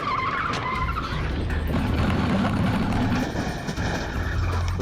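A SWAT vehicle stunt-drives through parked cars, a loud, continuous rush of engine and tire noise with skidding, scraping and crunching impacts, no voices.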